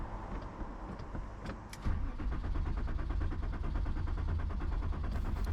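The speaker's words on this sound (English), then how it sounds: "I pumped the gas a couple times to see if that would help me get the car started" A 2000s-era BMW E24 that won't start: a few faint clicks, then the starter cranks the engine in a rapid, steady rhythmic churn that continues loudly without the engine catching.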